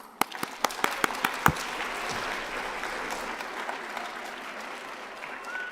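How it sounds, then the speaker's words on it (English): An audience at a Colorado Springs youth citizenship awards ceremony applauds the young people, with a few distinct early claps that swell into steady, sustained applause before slowly thinning out. "you need to applaud them one more time"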